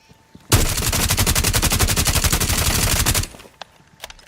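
An automatic weapon fires in Rainbow Six Siege during a recoil test, one loud, fast, unbroken burst of about three seconds that stops sharply and leaves a few faint clicks afterward.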